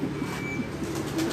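A Chinese pigeon coos softly several times in short, low bursts against steady background hum, close by but faint, with no talking.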